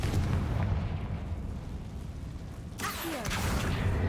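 A Confringo fire spell cast in Hogwarts Legacy lets out a loud, sustained blast with a rumbling burst, then a brighter whooshing crackle near the end, with no talk over it.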